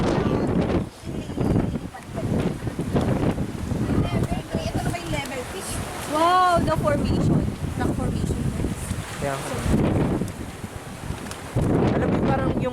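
Wind gusting across a rocky coastal trail at Dingalan, Aurora, a steady roaring buffet on the microphone that never lets up, with people talking over it throughout.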